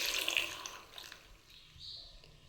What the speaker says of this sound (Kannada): ಈಗ ಇದಕ್ಕೆ 1 ಚೊಂಬಷ್ಟು ನೀರು ಹಾಕ್ತೀನಿ